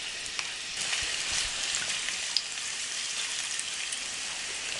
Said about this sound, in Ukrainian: обсмажуємо нашу цибулю, порізану кубиками до рум'яності